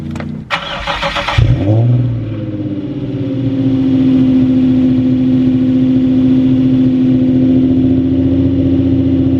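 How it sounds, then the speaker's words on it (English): A Nissan 350Z engine cold-starts, cranking with a whirring starter, catches with a loud rev, then settles into a steady, deep idle that drones on close by. "get a cold start."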